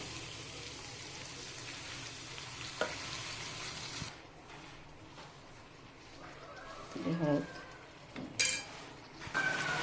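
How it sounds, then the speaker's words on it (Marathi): Raw onion and garlic paste fries in a pan with a soft, steady sizzle. It is fairly quiet, with a few faint clinks and brief louder crackles near the end. "कांदा छान पाच मिनटं परतून घेऊया"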